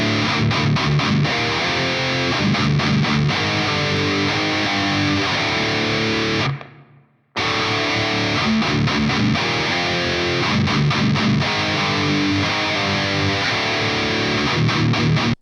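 Heavily distorted electric guitar plays a palm-muted death metal riff at a slowed tempo, loud and continuous, with a brief silent break midway before the riff resumes.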